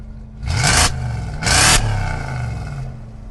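A BMW X5 E70 with a 4.8 engine and gas (LPG) conversion: a steady engine whir with two short, loud surges of revving between smoother idling, heard up close.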